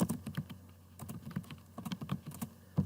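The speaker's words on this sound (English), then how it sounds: "Why am I typing all this?" Rapid, irregular clicks of fingers typing on a computer keyboard, close and fairly quiet, with no talking.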